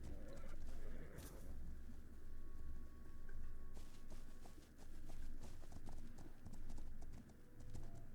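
Horse hooves clip-clop steadily in a horse video game on a windy day, a continuous moderate trot heard up close over soft wind and occasional bird calls, with no speech.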